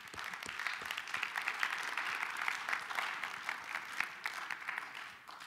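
Applause from an audience at a school career and technical education visit, honoring high school students earning college credit: a steady, dense wash of many hands clapping together, fairly close and sustained throughout.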